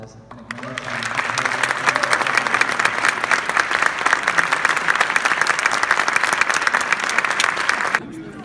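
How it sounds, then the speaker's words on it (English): Loud, sustained applause from an audience at a celebration marking 70 years of the Universal Declaration of Human Rights, a dense wash of clapping that starts abruptly, holds steady for about seven seconds, then stops sharply. "could we please get a loud round of applause and acknowledge him"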